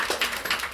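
Applause from an audience at a stylists' fashion breakfast greets a woman presenting an outfit. The clapping is steady and dense but fairly soft, with slight rhythmic swells through a brief moment.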